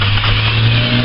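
A just-started car engine runs at a high idle after a throttle body clean, a loud, steady droning hum with a constant low tone, close by and without talk.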